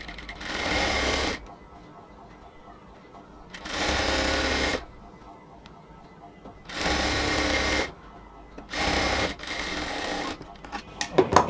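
Sewing machine stitching pleats into a luxury cotton salwar pant, running in several steady bursts of rapid whirring with short pauses between, close and fairly loud, with a voice talking in the gaps.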